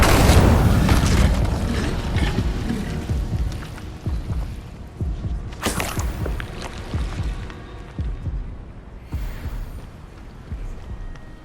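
Incendio fire spell cast over and over in Hogwarts Legacy on PS5, giving loud booming bursts with crackling whooshes. A dense opening stretch is followed by separate blasts, with no talk.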